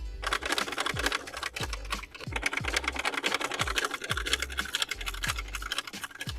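A sewing machine stitches steadily and close up, its needle clattering in a fast, even rhythm throughout, with no talk.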